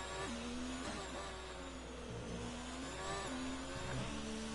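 An F1 race car engine in a racing video game at Singapore, revving high in second gear with a manual gearbox, a steady buzzing whine whose pitch climbs and drops with each shift, fairly faint with no talking.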